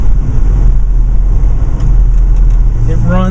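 A 1936 Ford steel-body street rod's engine idles in a loud, close, low rumble, with a rising tone near the end as it revs slightly.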